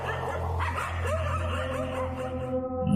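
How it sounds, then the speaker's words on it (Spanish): Several dogs bark and yip outdoors at night, overlapping with whimpers and whiny howling tones, fairly close and continuous, with no speech. "el ladrido de sus perros lo despertaron"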